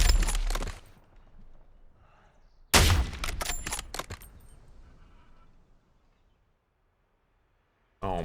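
Gunfire in a video game sniping match: sharp, loud shot bursts with rattling tails, one early volley, a second heavy burst a few seconds later fading to silence, then another abrupt blast at the end.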